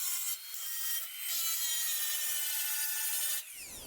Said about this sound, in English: It's time to grind them back a little bit and see how I did.